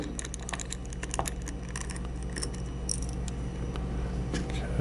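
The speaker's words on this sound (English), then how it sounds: "We're going to remove the four screws." A small Phillips head screwdriver turns out the round-headed screws of a speed control toggle switch, giving faint, close, irregular metallic clicks and ticks over a low steady hum, with no talking.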